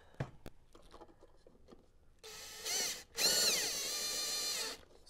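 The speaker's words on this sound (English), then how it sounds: "I like power tools, they make life easy." Faint taps and handling noises, then a power drill whirs in two bursts while mounting a wall plate for a Cambium e430H access point, the second longer and louder, revving up close.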